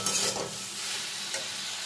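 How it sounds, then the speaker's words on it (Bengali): Ginger paste being sautéed with spices in a pan, giving a broad continuous sizzle with a brief stirring scrape at the start and another short one near the end. "আর বেটে রাখা আদা বাটাটা আমি এর মধ্যে দিয়ে সব কিছুর সঙ্গে কষিয়ে দেব।"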